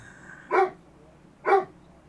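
A dog barks twice indoors, two short sharp woofs about a second apart, moderately close, with quiet room tone between them.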